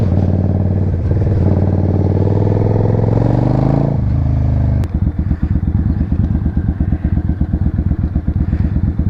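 A Suzuki Marauder bobber motorcycle ridden on a street, its engine note rising as it accelerates, then a gear change and a steady, loud, close-up chugging idle rhythm afterward.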